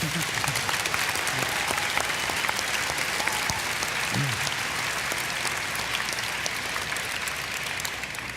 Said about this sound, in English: So can we get a round of applause for the people who help us?